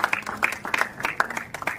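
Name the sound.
audience applause for the Governor and Eugene Wamalwa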